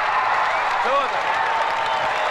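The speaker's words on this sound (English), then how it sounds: "Listen to the ovation for Alfredo Leal." Applause and crowd noise at a bullfight roar as an ovation for bullfighter Alfredo Leal, a steady, dense wash of clapping and cheering with a faint voice briefly rising above it.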